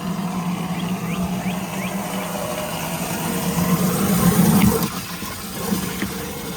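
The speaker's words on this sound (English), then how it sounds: "so I'm gonna fill these up with water" Water from a garden hose filling hydroponic containers in a backyard garden, a steady rushing and splashing flow that continues throughout and swells louder briefly near the end.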